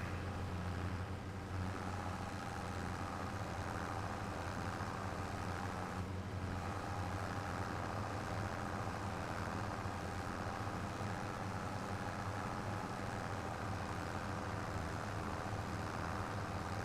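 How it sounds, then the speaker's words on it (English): A tractor engine in Farming Simulator 25 drones steadily, working hard through grass clippings, with a low continuous rumble and no talk. "Tractor's starting to struggle a little bit in the clippings here."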